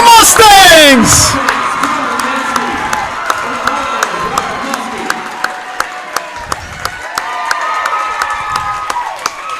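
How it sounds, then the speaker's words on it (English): A home crowd at a varsity high school wrestling match between the West Fargo Sheyenne Mustangs and Valley City Hi-Liners roars and cheers for the Mustangs, loud at first, then settling into a sustained cheer with scattered claps under a commentator's voice. "you got everybody over there on their feet cheering for the Mustangs"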